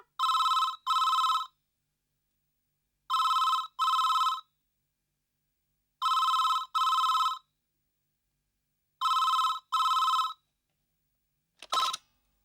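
A telephone rings indoors in four evenly spaced double bursts, loud and clear with silence between them, followed by a short click as the handset is picked up.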